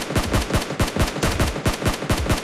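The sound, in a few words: sniper rifle gunshot in PUBG Mobile video game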